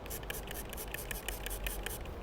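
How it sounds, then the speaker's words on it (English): Hose water spraying onto brick and concrete outdoors, a steady close hiss with irregular pulsing bursts of spatter as the jet moves across the surface. "the more I spray it, right, the more darker the brick's going to get because I'm spraying it with water"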